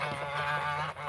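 Farm geese honking in one brief, steady, nasal call, close and fairly loud, with no talking.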